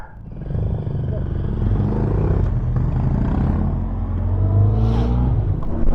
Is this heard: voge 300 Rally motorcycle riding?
yes